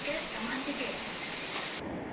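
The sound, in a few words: rain and TV noise picked up by a lavalier mic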